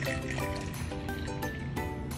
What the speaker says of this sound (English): That's a good pour.